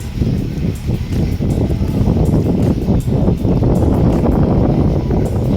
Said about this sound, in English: devilish wind still continues, can't help it.